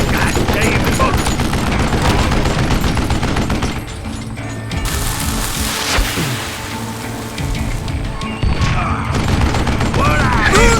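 Rapid gunfire in the Wild West shooter Call of Juarez: Gunslinger, with dense volleys and sharp shots layered over a game soundscape, loud and continuous, broken by a brief lull near the middle. Voices speak under the gunfire.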